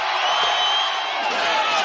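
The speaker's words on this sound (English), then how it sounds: "To cheers from the crowd" A crowd at a 1980s punk concert roars and cheers continuously, a dense wall of yelling voices with whoops rising out of it, loud and sustained throughout.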